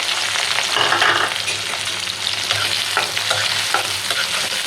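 Onions and green chilies sizzle in hot oil in a pan for loitta fish bhuna, a loud, close, steady frying hiss with repeated scraping strokes of a stirring spoon.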